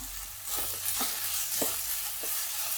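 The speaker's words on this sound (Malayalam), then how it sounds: "ഇതിൻ്റെ പച്ചമണം മാറുന്ന വരെ ഒന്ന് വഴറ്റി കൊടുക്കണം" Ground masala paste sautés in a hot pan, making a loud, continuous sizzle broken by several soft, regular stirring strokes, with no voices.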